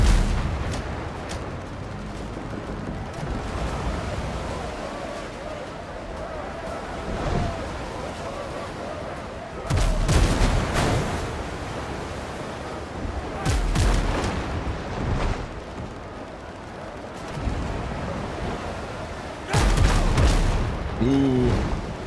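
Heavy volleys of gunfire and booming cannon shots are returned in the naval video game Windrose, with loud blasts in several clusters over a steady background rumble like sea and wind.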